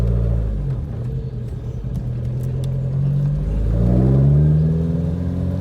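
A classic Volvo P1800 engine accelerating from a standstill, a deep rumble that rises in pitch as the revs climb, swells louder toward the end, close and with nobody talking over it.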